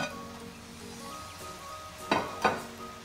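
Pork meat dropped into hot oil in a pan for a cider pork sauté, a low steady sizzle punctuated by two sharp bursts of spitting and crackling near the end, close and moderately loud.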